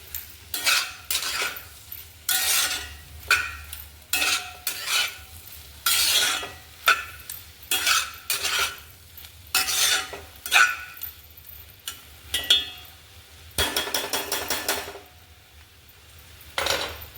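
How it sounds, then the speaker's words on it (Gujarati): A spoon stirs spices through a Gujarati ivy gourd (giloda) and potato curry in a pot, with repeated scraping and clanking strokes in uneven bursts and a faint sizzle between them. "હવે આપણે એને બધા મસાલાને મિક્સ કરી દઈશું"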